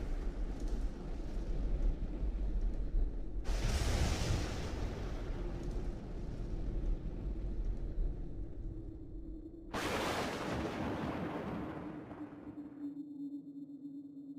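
Layered sound effects matched to an animated lightning strike: two sudden loud bright crashes, each bursting in and sustaining for a few seconds, over a steady deep rumbling bed with no talk.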